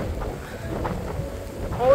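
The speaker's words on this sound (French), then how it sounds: "avec un petit peu de vent," A light wind blows at a high lookout over Sainte-Rose-du-Nord in Québec, making a soft, low buffeting rumble on the microphone with faint gusty swells throughout.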